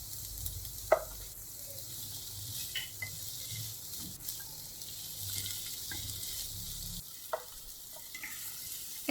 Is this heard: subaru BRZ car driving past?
no